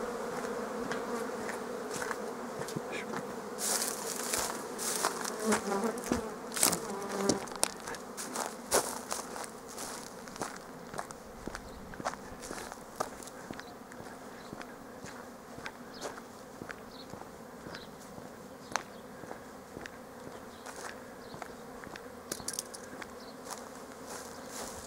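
Honey bees buzzing steadily around hives at an apiary on a March day, a dense continuous drone with occasional individual bees passing close, no talk.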